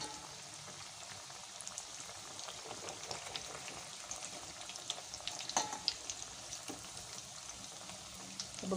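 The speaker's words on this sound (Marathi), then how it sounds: "दुसऱ्या साईडनी सुद्धा छान तळून घ्यायचे आहेत" Matar poha cutlets fry in a pan of hot oil, a soft, steady sizzle and crackle with occasional small pops, faint and close, with no voices.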